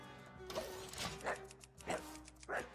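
A dog barks in short, repeated bow-wow bursts, about four across a few seconds, close and moderately loud, with a faint steady tone in the background.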